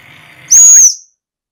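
A whistle blown to command a 1960s LEGO electronic train sounds as one loud, steady high tone held for about half a second, then cut off, with faint background noise before it and silence after.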